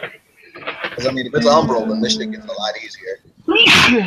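A single sharp sneeze bursts out near the end, right after a stretch of steady talking.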